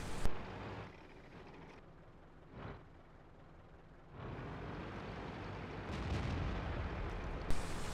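An AMX 13 75 light tank's gun fires in World of Tanks on the Sand River map, with a short sharp boom at the start and another near the end over an otherwise quiet, low-level backdrop.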